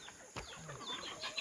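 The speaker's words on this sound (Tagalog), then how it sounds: "ang daming manok pakainin mo" Chickens on a mountain farm in the Philippine provinces cluck and chirp while being fed, several birds calling over one another close by. One sharp thump comes early on, and no one speaks.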